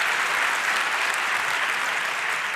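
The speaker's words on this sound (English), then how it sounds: "give her a huge round of applause" An audience at the 30c3 hacker conference applauds a speaker steadily, a dense wash of clapping that holds at an even level throughout.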